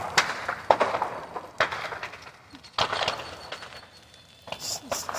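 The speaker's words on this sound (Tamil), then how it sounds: "இந்த மூங்கில் சவுண்டு கேளுங்க, அணுகுண்டு போகிற மாதிரி இது பண்ணுங்க." Bamboo bursting in a fire during tree cutting gives several sharp, loud cracks and pops at irregular intervals, with crackling and splintering between the bangs.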